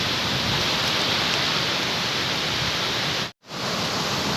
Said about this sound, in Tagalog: Lakas pa rin ang ulan.